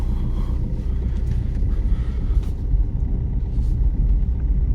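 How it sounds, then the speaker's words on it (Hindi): A car creeps forward in first gear with the steering fully turned on a narrow street, giving a continuous low engine rumble with some wind buffeting and no voices. "अब हम फर्स्ट गियर डाल के और पूरा स्टीयरिंग काट के गाड़ी को आगे ले जाएंगे"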